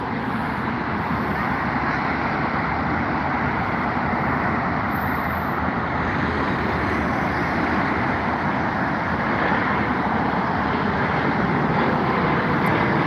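Aircraft and road traffic at Heathrow Airport in London, heard as a steady, loud, broad roar of engines and passing vehicles with no pauses and no voices.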